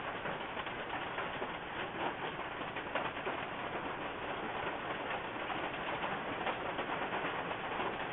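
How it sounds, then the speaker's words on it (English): Rain falls steadily outside during a wet spell in Queensland. It makes a dense, even hiss that stays faint and continuous throughout, with no speech over it. "You can hear the rain outside."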